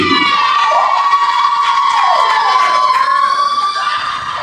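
A college audience at a comedy show cheers, screams and whoops loudly, a continuous close roar of young voices with shrill shouts rising and falling over several seconds before easing slightly.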